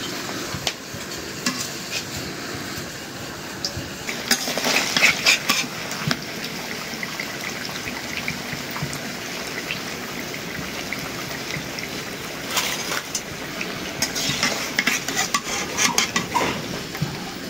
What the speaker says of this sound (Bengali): হয়ে গেল পিঠা ভাজা।